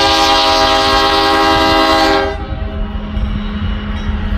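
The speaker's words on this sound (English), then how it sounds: "Here comes a westbound empty coal drag coming off the Blair Fremont sub." Westbound empty coal train passing close by, a loud sustained horn blast that cuts off, then a steady rumble of wheels on the rails.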